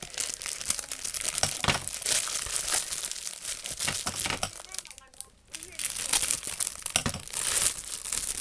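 A greeting card being opened, with dense paper crinkling and rustling that runs steadily throughout, briefly easing near the middle, while a person talks over it.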